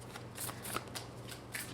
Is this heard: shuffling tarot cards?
yes